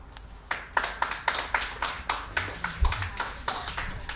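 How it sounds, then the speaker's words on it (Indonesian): Audience applause at a live poetry reading on stage, a burst of hand claps with sharp irregular peaks that fills the whole stretch at a moderate distance, with no talk over it. "Makasih tepuk tangan."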